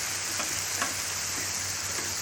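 Beef and mushrooms sizzle on a griddle for a stir fry, a steady, close hiss of frying with faint scrapes from stirring and no voices.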